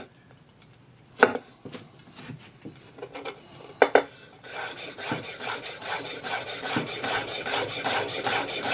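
An imarku 8-inch hammered chef knife chopping on a cutting board: a few sharp separate knocks at first, then a fast steady run of quick blade taps and scraping, close and fairly quiet.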